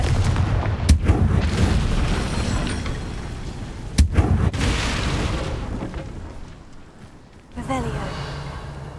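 A Confringo explosive spell cast in Hogwarts Legacy, heard as sharp booming blasts near the start and again around the middle, over dense rumbling game ambience, with a brief voiced gasp-like sound near the end.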